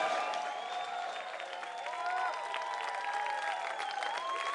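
A large crowd claps and cheers steadily for several seconds at the MLG Anaheim 2009 championship, a dense wash of applause filling an arena.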